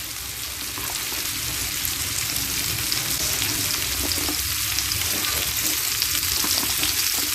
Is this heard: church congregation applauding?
no